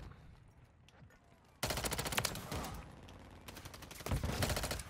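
Bursts of rapid gunfire in Call of Duty: Modern Warfare III, loud and dense after a quieter opening, with sustained rattling shots and a second heavy burst near the end.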